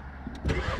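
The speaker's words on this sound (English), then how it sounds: "You just put the key down there, press the clutch in, press the button, and it starts." A car with a clutch and push-button ignition starts up: a brief crank catches and settles into a steady engine rumble about halfway through this short moment.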